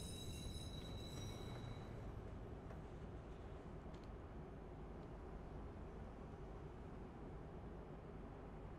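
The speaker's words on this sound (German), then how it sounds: "Der Zug fährt ab." A train pulling away in the Watch Dogs video game, heard as a steady, dense rumble of wheels and engine that holds level throughout, with faint high tones fading early on and no voices.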